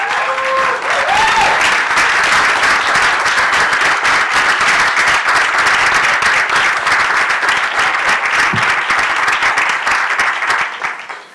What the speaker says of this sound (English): let's please stand up and give Charlie a round of applause